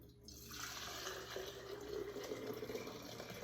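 Liquid poured into a glass canning jar during home canning, a steady close splashing trickle that rises in pitch as the jar fills, with no talking.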